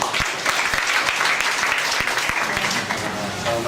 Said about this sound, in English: kita beri applause buat Profesor Takeshi